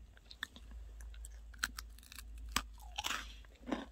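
Close-up crunching and chewing of a hard, crunchy homemade cookie with potato baked inside, with sharp individual bites and grinding crunches spaced irregularly and no talking.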